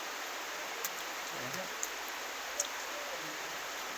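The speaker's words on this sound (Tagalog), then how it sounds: "Narinig yung malakas yung ulan." Heavy rain pours down during Typhoon Krising in Pangasinan as a dense, even hiss. A few faint drips and ticks sit on top of the steady downpour.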